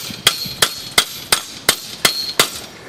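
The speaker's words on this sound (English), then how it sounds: "So you just use a little hammer" A small hammer tapping loose gravel stones down around a real estate sign frame: seven sharp, evenly spaced metallic-stony taps, close and clear, with no talk.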